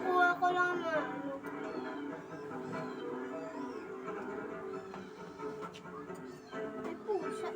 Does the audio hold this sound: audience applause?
no